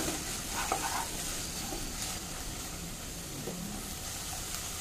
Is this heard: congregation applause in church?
no